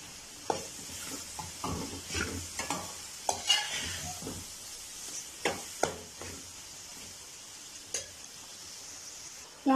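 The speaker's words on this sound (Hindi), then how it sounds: "अब यहाँ पे हम डालेंगे ये हरी मिर्चें कुछ और टमाटर है वो भी डाल देंगे इस वक्त।" Green chillies and tomatoes frying in a pan over a medium flame, a soft continuous sizzle broken by scattered spoon scrapes and knocks against the pan, close with no voices.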